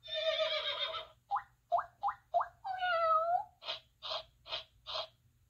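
A cat meows repeatedly, starting with a long drawn-out cry followed by a series of short, rhythmic meows, close and clear against a quiet background.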